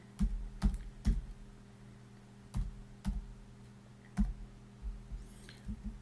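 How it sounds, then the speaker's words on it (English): Computer keyboard typing in an office software session: short clusters of sharp clicks and key taps separated by pauses, close and fairly quiet against a low steady hum. "So I'm just typing it all out again"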